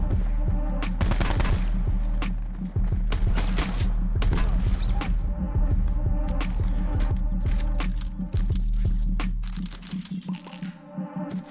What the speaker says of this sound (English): No big deal, just get shot at.